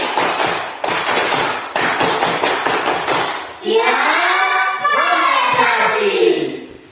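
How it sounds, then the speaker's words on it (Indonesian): Children clap a rhythmic concentration clapping pattern (tepuk konsentrasi) in a classroom, a quick run of sharp, evenly spaced claps, then a group of young voices shouting and chanting together loudly. "tepuk konsentrasi."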